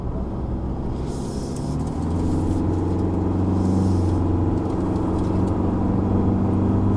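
A 2021 Isuzu D-Max X-Terrain pickup climbs a mountain road at Genting, heard from inside the cab as a loud, steady engine and road drone whose pitch rises gradually as it accelerates, with no talking.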